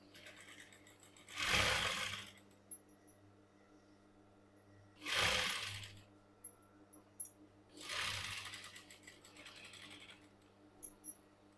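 A sewing machine stitches a V-neck collar in three short, quiet bursts of a couple of seconds each, separated by pauses with faint clicks.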